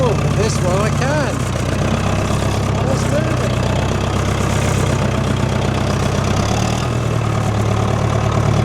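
An old tractor engine idles and chugs loudly and close, with a steady low rumble that shifts in tone as the machine starts to move, while someone talks over it.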